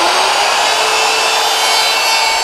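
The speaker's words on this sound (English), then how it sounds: "I'll trim it flush using the flush trim router bit." A flush trim router bit shaves the oversize wooden bottom of a donation box flush with its sides, giving a loud, steady, unbroken whir that holds at one level from start to finish.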